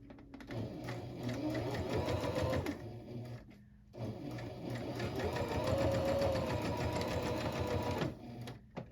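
A sewing machine runs close by, stitching the placket on a Jasmine dress, in two long steady whirring runs split by a short pause, the second with a brief slowdown near the end.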